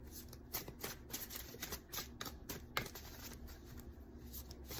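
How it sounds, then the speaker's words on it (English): A deck of cards being shuffled close up, a quick run of papery riffles and flutters lasting several seconds, soft and with no talk. "Shuffle these cards."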